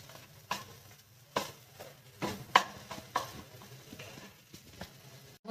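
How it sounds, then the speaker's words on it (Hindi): Potatoes roast in a pan over medium heat for a halwa, a soft sizzle under repeated scraping stirs at an uneven rhythm, close and fairly quiet. "जिससे आलू हमारे अच्छे से गुलाबी हो जाएंगे। ये हम मीडियम आंच पर भून रहे हैं"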